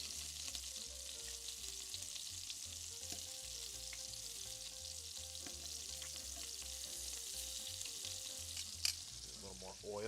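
Meatballs sear and fry in oil in a slightly warped pan, giving a quiet continuous sizzle over a low electrical hum with a few faint stirring knocks. No one speaks.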